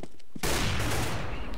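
Counter-Strike: Global Offensive gunfire on the Cache map, a sudden loud burst of rapid shots after a brief quiet lead-in, sustained to the end.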